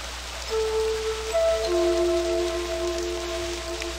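Steady rain and water wash constantly through a bleak realMyst game scene near a lighthouse, with soft hiss and ambient tonal hums layered over it, and no voices.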